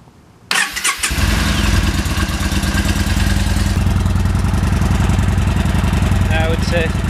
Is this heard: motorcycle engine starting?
yes